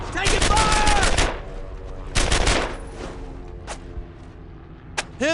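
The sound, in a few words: gunfire in a firefight, from video game Brothers in Arms: Earned in Blood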